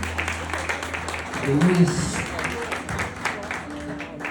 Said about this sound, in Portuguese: dando uma salva de palmas bem forte para Jesus